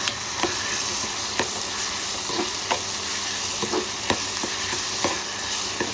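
A ground masala paste fries in oil with softened onions for a bottle gourd and prawn curry, giving a continuous close sizzle broken by regular taps and scrapes of a stirring spoon, with no one speaking.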